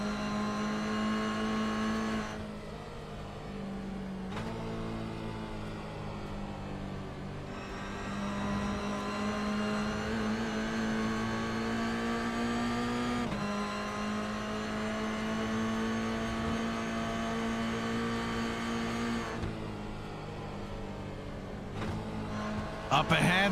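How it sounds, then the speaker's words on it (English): Toyota GR86 race car engines in a sim racing GR Cup event at Charlotte, a steady droning engine note shifting pitch through gear changes, with tyre noise and a commentator talking over it throughout. "Riding on board with Onofre in these GR86 Toyotas coming through turn 1."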